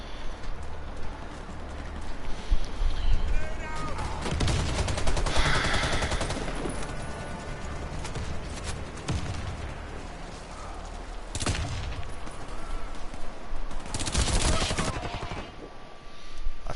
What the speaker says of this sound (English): I guess that's why shotguns are kind of fun to own, is there's different types of shotgun shells